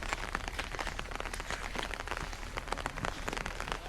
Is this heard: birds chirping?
no